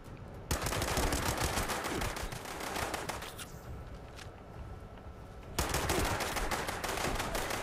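Rapid automatic gunfire from the video game Fallout 76, sustained close bursts that briefly thin out mid-stretch before resuming at full loudness.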